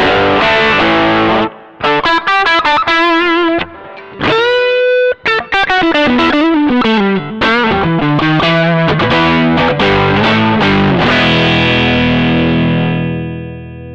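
Electric guitar through a King of Tone overdrive pedal into a Quimper Retrofier Warm Glow amp pedal, played loud with sustained chords and quick note runs, gritty and continuous with a few brief gaps.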